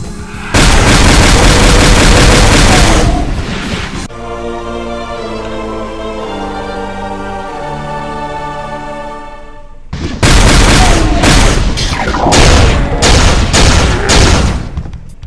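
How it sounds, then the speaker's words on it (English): Weapon pickup jingle from the video game Doom 2, with loud blasting bursts framing a sustained tonal musical passage in the middle, all close and prominent with no speech. "it would remove that sound effect. The, weapon obtain effect."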